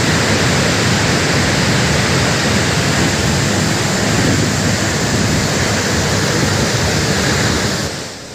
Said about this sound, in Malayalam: കൊല്ലം ജില്ലയിലെ പാലരുവി വെള്ളച്ചാട്ടം സന്ദർശകർക്കായി തുറന്നു